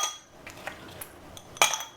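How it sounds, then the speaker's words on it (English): Ice cubes drop into a cup while a matcha latte is being made, giving a few sharp, close clinks and a brighter cluster near the end, with no talk. "fill my cup with ice."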